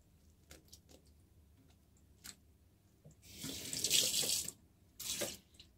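A monkey head mushroom, already soaked soft, is rinsed and squeezed under a running kitchen tap, giving a steady splashing gush that swells loud near the end with a second burst after it, set against soft handling clicks.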